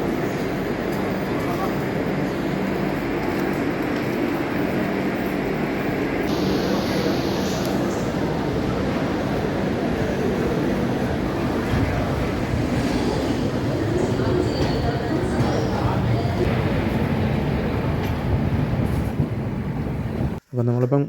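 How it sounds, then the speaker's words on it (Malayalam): Madras Mail train pulling out of Trivandrum Central: a steady, loud rolling rumble with rattling carriages and wind buffeting, continuous for about twenty seconds before cutting off abruptly, with faint voices mixed in. "അപ്പോൾ ട്രെയിൻ ഇപ്പോൾ എടുക്കാറായി"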